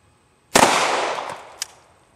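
A single sharp pistol shot cracks at an outdoor shooting range, its report decaying over about a second, with a faint second click near the end.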